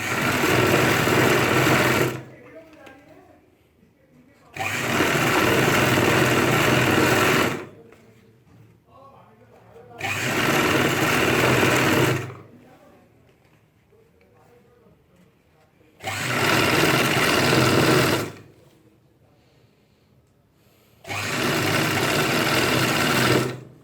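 A sewing machine stitches a ladies' pant waistband in five loud, even bursts of rapid whirring, each a few seconds long, separated by quieter pauses where a person talks.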